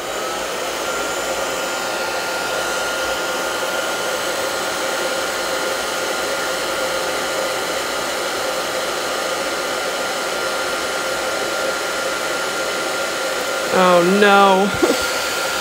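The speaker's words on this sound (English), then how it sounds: "So I apologize for the hair dryer noises." A hair dryer blows close and loud over a watercolor painting, a steady, unbroken whir that runs throughout, with a brief spoken exclamation near the end.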